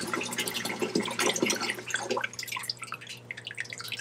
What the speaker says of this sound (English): the water is coming out of the float valve.